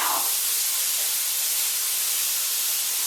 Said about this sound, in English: Now we're just going to saute all of this until the onions get nice and tender and translucent.